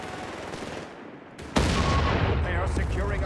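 A Stummel cannon fires amid gunfire in the strategy game Company of Heroes 3, striking an infantry section. A sudden loud blast cuts in mid-clip, followed by continuous dense rumbling combat noise over a busy battlefield background.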